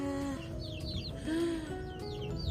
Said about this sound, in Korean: 우리 암탉 두 마리가요. 알을 품고 있는데